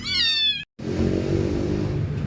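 An abandoned kitten gives one close, high, wavering meow, then falls briefly silent. A steady, low engine-like rumble follows.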